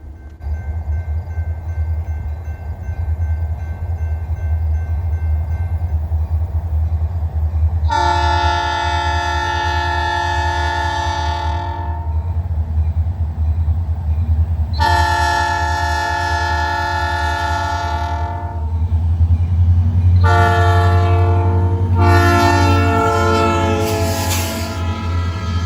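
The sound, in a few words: northbound ore train led by IC SD40-2 locomotive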